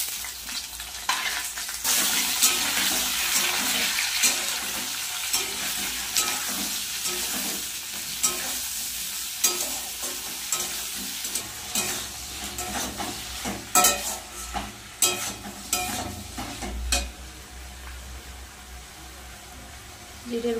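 Fried radish and potato cook with onion, tomato and green chili in a pan, giving a loud, continuous sizzle broken by frequent scraping and clattering stirs close by.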